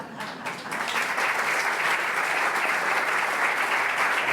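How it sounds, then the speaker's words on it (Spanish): Dense, steady applause from a theatre audience at a literary talk with the Dutch writer Cees Nooteboom, starting with a brief lull and then swelling into sustained clapping that fills the rest of the moment. "Y yo quiero que el público te lo agradezca con un aplauso canario."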